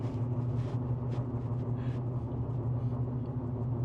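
A V6 Ram 1500 pickup truck engine fitted with a K&N cold air intake idles with a deep, steady rumble and low throb, fairly loud and close, with no talking over it.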